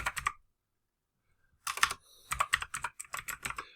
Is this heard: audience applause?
no